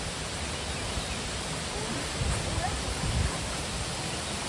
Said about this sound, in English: Go under the waterfall.